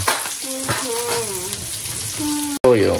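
Kimchi fried rice browning in a pan while being stirred, a continuous close sizzle with scraping, partly under a voice speaking, and a brief cut near the end.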